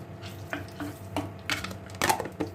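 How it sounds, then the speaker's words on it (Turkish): Tomato and pepper paste stirred in a pan for a vegan dish, a spoon scraping and knocking against the pan in several short bursts, close and moderately loud with no talking. "salçalarımın bir kokusunu çıkartayım, karıştırayım"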